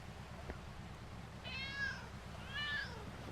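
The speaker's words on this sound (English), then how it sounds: "Here's the last cat." Cat in the video game Lego City Undercover lets out two drawn-out meows over a low, pulsing background hum, fairly quiet and without speech.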